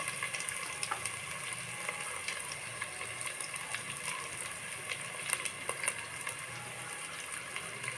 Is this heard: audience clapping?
no